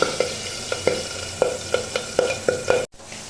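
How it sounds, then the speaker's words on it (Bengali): Retha fish fry in hot oil in a wok: a close, steady sizzle broken by repeated sharp clicks and taps at an uneven rhythm, then a sudden drop to near silence before the sizzle returns faintly. "তেলটা ভালোভাবে মাখিয়ে নেওয়ার পর এবার একে একে মাছগুলো এর ছেড়ে দেব"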